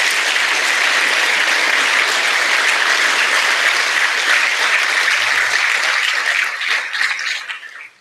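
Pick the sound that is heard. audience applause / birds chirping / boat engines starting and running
audience applause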